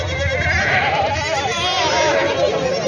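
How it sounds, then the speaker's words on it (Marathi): Goats bleat amid the dense, steady hubbub of the busy weekly goat and sheep market at Vasmat, Maharashtra. People talk throughout and the animal cries are mixed into the continuous crowd noise. "खूप चांगल्या शेळ्या आलेल्या आहेत आपल्या वसमतच्या बाजारामध्ये"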